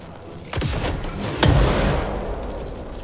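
Gunshots ring out in the video game Control: two loud, sharp blasts about a second apart, each with a booming low tail, over a steady rumbling game background.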